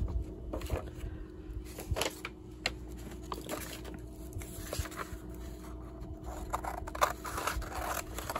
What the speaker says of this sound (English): Not those fabric scissors, Rebecca.